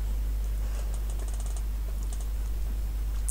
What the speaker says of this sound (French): on peut appuyer sur insert, sur la touche insert.